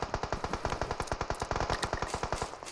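Rapid automatic gunfire from a gun in the video game PUBG Mobile, a fast, even burst of about two dozen shots, close and continuous, with no talk.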